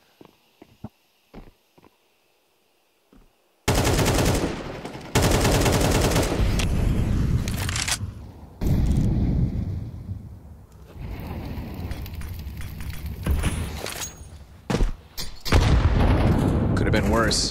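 Grenade blast and gunfire in a Counter-Strike match at the IEM Katowice 2025 esports tournament: after faint ticks, loud rapid gunshots, bursts and booms repeat over several seconds, with footsteps and a commentator talking.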